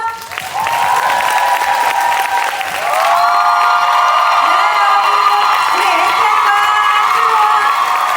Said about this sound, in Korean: 이분들을 한번 박수와 환호로 모셔볼까요?